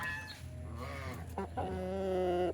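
A Rhode Island Red rooster on a small farm gives a close, loud, drawn-out crow with a rising, strained tone, clear and alone.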